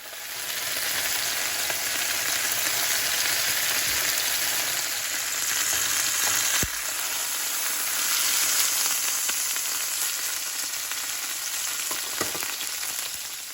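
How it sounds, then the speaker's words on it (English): Pork tenderloin sears in a hot, oily pan with a steady, dense sizzle that hisses on without a break from start to finish, with a few brief crackles and pops along the way. "We're then going to braise our pork tenderloin in a hot oily pan on each side"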